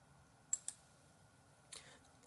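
A computer mouse clicking to download a Gmail attachment: two quick, faint clicks close together, then another soft click a moment later, in a quiet room.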